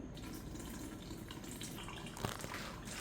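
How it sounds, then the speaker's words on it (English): Horchata made with almonds and hazelnuts is squeezed through cheesecloth, and the liquid trickles and drips quietly and continuously, with one slightly louder splash near the end. "If it's really thick, just lift it up and start squeezing."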